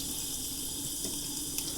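A kitchen faucet runs in a steady, close hiss while a suction container from a portable trach suction machine is rinsed under it. The stream stays even throughout with no talking.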